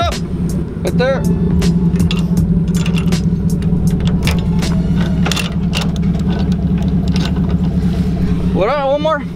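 A Chevrolet C10 pickup truck engine runs with a steady low rumble while the truck backs up, close and loud, with people shouting directions over it.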